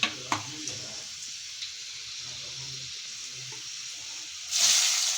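Whole spices (cinnamon, cloves, cardamom, shahi jeera) frying in hot oil for chicken curry: a steady, close hiss of sizzling oil that swells louder near the end, with a voice talking over it.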